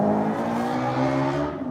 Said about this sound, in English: Like that guy with the loud muffler